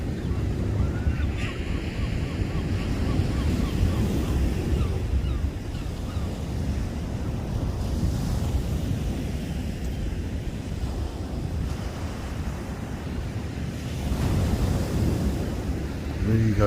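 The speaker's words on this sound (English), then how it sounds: "the sounds of the waves behind me" Steady ocean surf breaks and rolls near a lighthouse at night, a continuous broad wash mixed with wind buffeting the microphone, with no talk.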